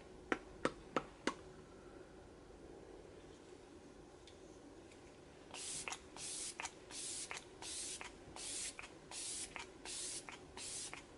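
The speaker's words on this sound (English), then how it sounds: "this is the Flower Beauty Setting Spray" Flower Beauty setting spray misted in a string of short, close hissing bursts, about eight in a row with brief pauses, after a few sharp ticks and a quiet stretch.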